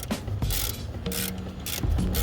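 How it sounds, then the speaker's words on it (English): A ratchet wrench with a swivel socket turns a bolt out while a transmission mount is being replaced on a Mazdaspeed 6. It makes several short bursts of close, rapid clicking with brief pauses between strokes. "there's a swivel socket here. One is coming out for this side"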